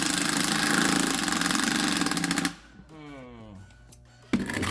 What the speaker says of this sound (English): time to drill right there.